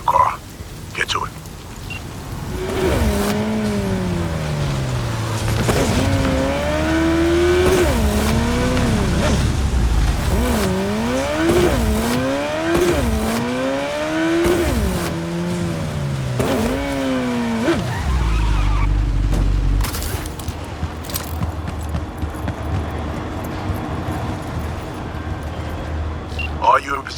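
Car driving in Cyberpunk 2077 Phantom Liberty: a loud engine revving up and down through gear changes with rising and falling pitch, tire noise and a skid, steady and close, with voices talking over it.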